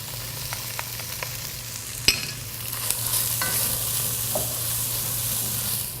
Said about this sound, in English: I have my Dutch oven over medium-high heat, and I'll add the bacon along with the whole diced onions and the 2 cloves of garlic.